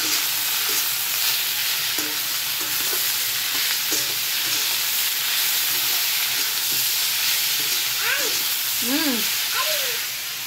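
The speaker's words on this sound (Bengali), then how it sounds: "আমি এখানে পুজুলি ভাজা করছি।" Pujuli snacks fry in a pan with a steady, broad sizzle that runs the whole time, loud and close, while a few faint voices and brief bird-like chirps come through near the end.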